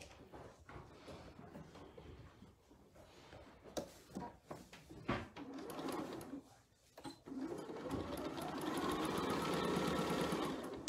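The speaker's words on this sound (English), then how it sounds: "And now we're going to stitch on those lines." A sewing machine runs a straight stitch along the drawn seam lines of fabric for a covered box. It begins with short bursts and handling noises, then settles into a steady, loud, close whir that continues to the end.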